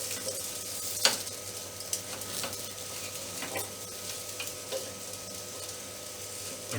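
Bread toast sizzles in a pan with a steady, close crackle, while a spatula scrapes and clicks a few times as the slice is flipped.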